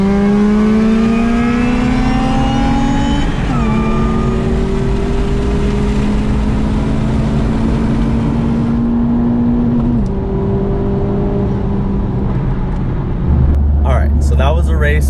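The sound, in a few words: tuned Civic Type R racing supercharged 8th gen Civic Si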